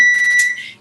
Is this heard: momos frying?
no